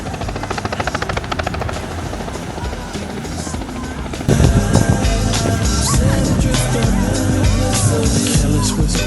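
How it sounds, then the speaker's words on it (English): A helicopter flies over a summer beach, its rotor chop beating steadily and close for about four seconds before a louder, denser wash of sound takes over. "Helicopter."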